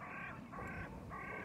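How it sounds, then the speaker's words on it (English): Crows calling from a tree, three harsh repeated caws at an even rhythm, moderately distant and fairly faint against outdoor background noise. "Look, there's the crows in the tree."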